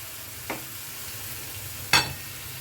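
Red amaranth greens go into a pan with fish while being stirred, giving two brief, soft bursts of scraping and sizzling against a quiet background, with no talking.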